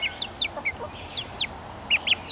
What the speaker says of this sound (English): And these are bantam chickens.